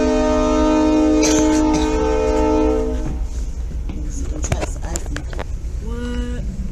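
A train passes through a snowy area, its horn sounding loudly and steadily for the first few seconds before giving way to rolling rail noise, with people talking nearby in the second half.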